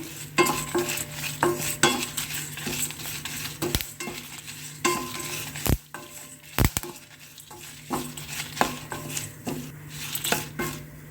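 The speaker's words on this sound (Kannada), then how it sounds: "ಈ ಟೈಮಲ್ಲಿ ನಾನು ಒಂದು ಹತ್ತು ಹನ್ನೆರಡು ಕರಿಬೇವಿನ ಎಲೆಗಳನ್ನು ಹಾಕಿಬಿಟ್ಟು ಚೆನ್ನಾಗಿ ಹುರಿತಾ ಇದ್ದೀನಿ" Ten to twelve curry leaves fry in a pan with roasting lentils for a Brahmin-style capsicum curry, a soft continuous sizzle broken by frequent sharp scrapes and clinks of a spoon stirring against the metal.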